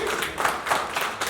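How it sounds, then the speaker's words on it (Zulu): An audience gives a brief round of clapping, a few quick, loud bursts of applause close by. "Ishalele ihlombe lonto bafowethu."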